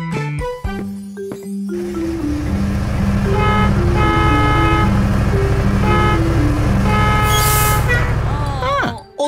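A bus horn honks repeatedly in a children's animated truck cartoon, a series of loud, short, tonal toots in a rhythmic pattern over a running engine, with a voice talking at the end.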